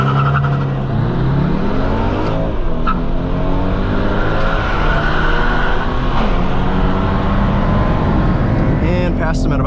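A 2022 Subaru BRZ or 2022 BMW 230i accelerates at full throttle in a drag race, its engine droning loud and close as the pitch climbs and drops through gear changes, with talk over it.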